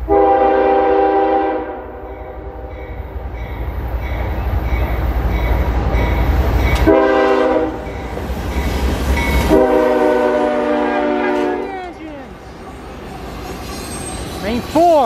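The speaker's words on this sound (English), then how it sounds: "I believe we got a train coming." A CSX mixed freight train with three engines passes through Clinton, Ohio, its horn sounding in long loud blasts over a heavy rumbling roar of rolling wagons, close by, with brief talk.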